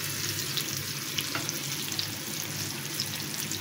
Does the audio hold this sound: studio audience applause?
no